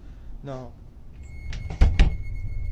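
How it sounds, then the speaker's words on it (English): Something bangs against a door in a series of heavy, close thumps and knocks, loud and uneven. A voice is heard briefly before the banging starts. "something throwing itself around, until it becomes aggressive, banging against the door itself"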